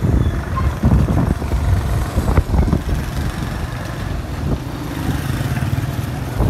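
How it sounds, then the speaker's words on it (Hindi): A motorcycle ridden along a road, its engine droning steadily and close throughout, with wind and road rumble and a few brief thumps, no speech over it. "बाइक पे वॉक हो रही है अभी।"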